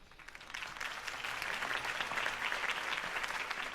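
Crowd applause in a Batman video game, a sustained wash of many hands clapping at a campaign rally, steady and fairly distant, rising slightly then holding without voices.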